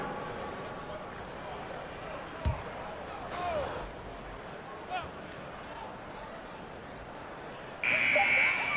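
End-of-quarter buzzer in the NBA 2K22 basketball video game, a loud steady electronic tone near the end after crowd noise, a ball bounce and commentary.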